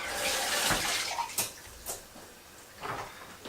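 Running water from a tap splashes over vegetables being rinsed in a kitchen, close and fairly quiet, with irregular splashes and a few louder gushes as the produce is moved under the stream.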